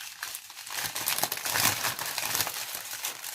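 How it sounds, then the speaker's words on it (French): Small plastic diamond-painting beads being poured back into their crinkly plastic packaging, a continuous close, rustling and crinkling sound with no talking. "je vais remettre les diamants en essayant de ne pas trop faire de bruit"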